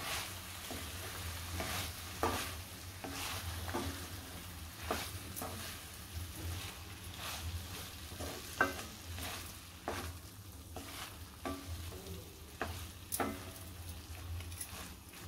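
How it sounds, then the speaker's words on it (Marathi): Soya chunks are stirred into a masala gravy in a pan, with a steady soft sizzle of frying and regular scraping strokes of a spoon across the pan, close but fairly quiet, with no talking. "आता सगळे सोया चंक्स मी याच्यामध्ये घातलेले आहेत ग्रेव्हीमध्ये. आता चांगलं मिक्स करून घेते."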